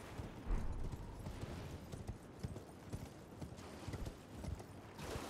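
A horse gallops in a video game, hooves pounding in a quick, uneven rhythm that stays close and fairly quiet, with no talk over it.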